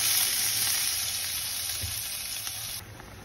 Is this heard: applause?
no